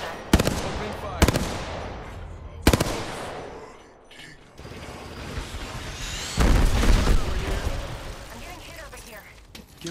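Gunfire in the video game Apex Legends, with several sharp, booming shots followed by a rattling burst of automatic fire. A voice speaks over the shooting.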